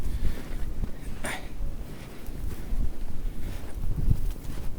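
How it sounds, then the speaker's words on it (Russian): Wind blowing at a winter fishing spot by a water intake on the Volga in Kazan, a steady gusty rumble buffeting the microphone with a few brief knocks. "везде дует"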